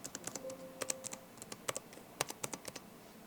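Keys clatter on an Alienware m18 laptop's mechanical keyboard, a quick, uneven run of sharp clicks recorded close, with no voices.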